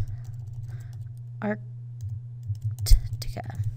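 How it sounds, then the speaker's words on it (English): A few scattered keystrokes tap on a computer keyboard over a steady low electrical hum, quiet and close, ending with a louder cluster of clicks. "we're going to backspace that out and we're going to type map of Antarctica."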